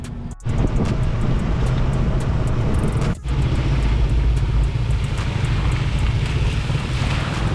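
Heavy Friday road traffic on a highway near Bamban, Tarlac, heard during a gravel bike ride. Loud, continuous low rumble of many vehicles blends with wind buffeting, with no single car standing out.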